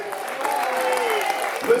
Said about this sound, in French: Plus d'applaudissements, s'il vous plaît